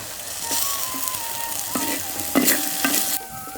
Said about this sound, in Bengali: তারপরে আবার তেল দিয়ে পুরোপুরি ভাজতেছি